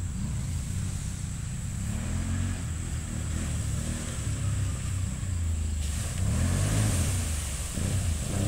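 ATV four-wheeler engine revving along a forest trail in Pike State Forest, a steady near motor drone rising and falling in pitch with throttle surges, loudest near the end.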